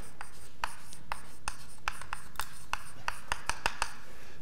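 Chalk or marker scratches across a board during a university mathematics lecture, a quick series of short, sharp writing strokes tapping out in uneven rhythm over a quiet room.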